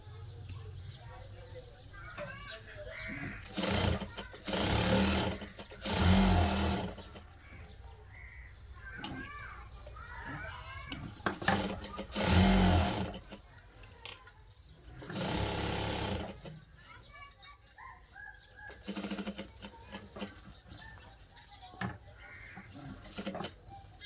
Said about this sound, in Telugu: ఇప్పుడు ఇంకొక కుట్టు వేసుకోవాలండి